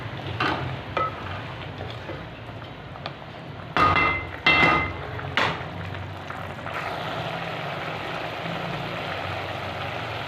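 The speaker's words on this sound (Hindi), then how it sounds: "यहाँ पर जो है हम घी डाल देंगे और इसको अच्छे से भून लेंगे" Cauliflower and meat frying in ghee with garlic-ginger paste, a steady sizzle broken by a few loud clanks and scrapes of a spoon against the pan, then a continuous fizzing hiss.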